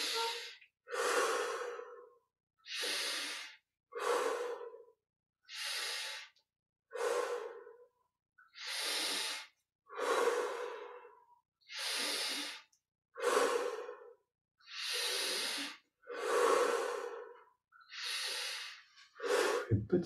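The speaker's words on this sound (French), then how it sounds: "on prend 25 respirations profondes" Slow, deep breaths during Kriya Yoga meditation, about a dozen long breaths in a steady rhythm with short pauses between them, close and fairly loud, with no talking.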